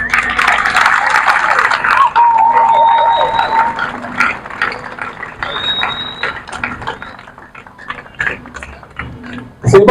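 A crowd at a school desk donation ceremony at EP3 Camp Luka bursts into applause and cheering, with dense crackling claps, scattered whistles and shouts that start loud, then thin out unevenly before a final surge.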